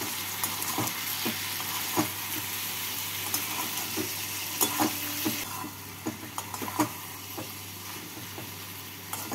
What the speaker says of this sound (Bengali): বাটিতে ধুয়ে জল দিয়ে নাড়াচাড়া করে নিচ্ছি